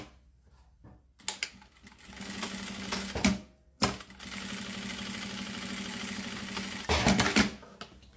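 A sewing machine runs in sustained bursts while stitching fabric for a cube-shaped toiletry bag, with a short pause and a brief backstitch, steady and close with no talk.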